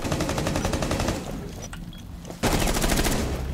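Automatic gunfire in the video game Rainbow Six Siege, a sustained rapid burst that pauses briefly and then resumes at full loudness.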